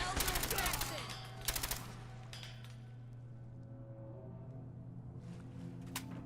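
Rapid bursts of automatic gunfire from a weapon in Fallout 4, loud in the first two seconds with a brief later shot, then fading into a low hum with a faint background voice.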